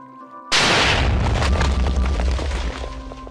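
A redstone-powered cannon fires in Minecraft: one sudden, loud explosive boom followed by a long rumbling decay.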